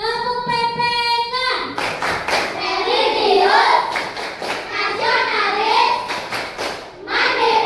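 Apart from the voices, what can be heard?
children doing a rhythmic PPK clapping routine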